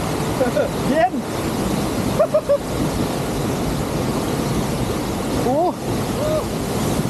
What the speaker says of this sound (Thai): มาเล่นน้ำตกจ็อกกระดิ่งโอ้ยเย็น